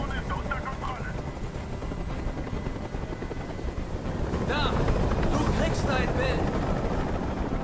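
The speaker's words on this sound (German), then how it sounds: "Dieser Helikopter soll verschwinden!" Helicopter hovering in the game Detroit: Become Human, a loud, steady rotor chop filling the scene throughout, with shouted voices rising over it midway.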